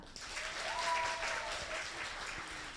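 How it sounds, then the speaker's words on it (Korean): Steady audience applause at a speech competition, many hands clapping at once in a dense, even wash that carries on throughout without letting up. "박수 한 번 더 주시겠어요?"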